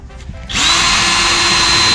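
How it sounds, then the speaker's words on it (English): A power drill spins up and bores steadily through a deck around a flue, a loud continuous whine starting after a brief quiet moment and holding to the end. "Drill some more relief holes here for when we cut."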